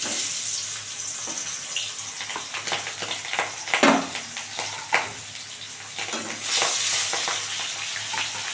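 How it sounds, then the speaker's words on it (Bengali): Fish pieces fry in hot oil in a wok, giving a loud, continuous sizzle and hiss with bursts of spattering and a few clattering knocks, close up and free of speech. "তেল গরম হয়ে গেছে, আমি অল্প একটু কড়াইতে লবণ দিয়ে দিচ্ছি ছিটিয়ে, কেন মাছটা যেন না লেগে যায়। এবারে এক এক করে মাছ দিয়ে দেবো।"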